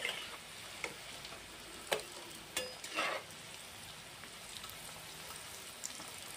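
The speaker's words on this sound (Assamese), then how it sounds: "আৰু গেছৰ ফ্লেমটো মই ল' ফ্লেমত ৰাখি আলু চপখিনি ভাজি লৈ আছোঁ।" Potato chops fry gently in oil over a low gas flame, giving a quiet, steady sizzle punctuated by a few sharper crackles and pops.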